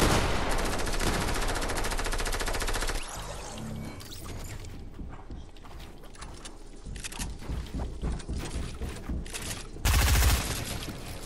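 Rapid, sustained machine gun fire in the video game Fortnite, a dense loud roar of overlapping shots that drops off midway, continues as scattered quieter bursts, then swells into a brief heavy blast near the end.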